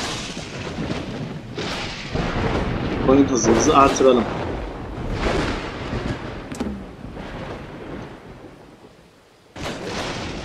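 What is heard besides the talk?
thunderstorm in the video game Dawn of Man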